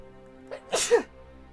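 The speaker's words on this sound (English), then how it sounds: "Oh, gotta sneeze." A single sneeze bursts out close to the mic, a short sharp intake followed by a loud explosive release, then quiet.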